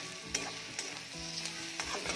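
Pieces of dried fish frying in masala and oil, a quiet steady sizzle broken by a few soft scrapes of a spoon stirring the pan.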